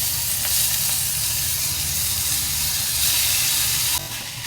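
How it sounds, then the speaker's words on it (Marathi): Rice sautéed in a pan with cinnamon and pepper for sweet coconut rice, giving a loud, continuous close hissing sizzle with a steady crackling texture, easing slightly just before the end. "दोन मिनटं आपण तांदूळ परतून घेतला"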